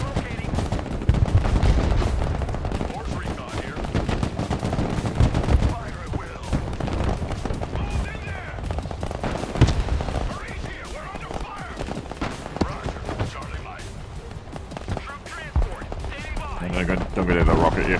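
Gunfire during combat in the Broken Arrow war game: dense, rapid bursts of machine-gun and rifle fire crackle continuously, with scattered heavier booms. Radio voices speak intermittently over the shooting.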